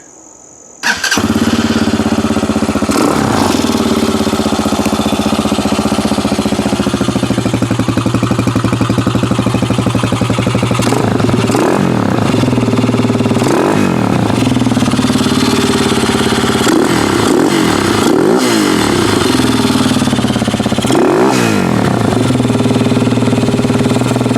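A 2019 RPS Hawk 250 motorcycle starts up after brief quiet, then runs loud and close at a steady idle, broken by several sharp throttle revs that rise and fall.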